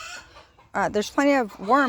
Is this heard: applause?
no